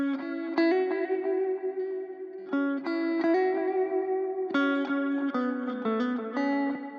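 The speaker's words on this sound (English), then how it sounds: "And then from Sound Toys, Echo Junior." Lo-fi beat of layered tonal chords and a steady low bass line, passed through a Soundtoys Echo Junior echo effect set to a spacey mode, with repeating tails smearing each chord change; loud, continuous music with no voices.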